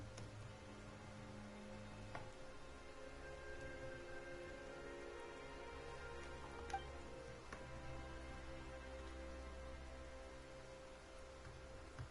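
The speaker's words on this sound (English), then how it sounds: "Why is it raining all of a sudden?" Steady in-game rain in Genshin Impact's Fontaine region, a dense even hiss over the full stretch with low rumbling beneath and a few faint isolated ticks, no voices.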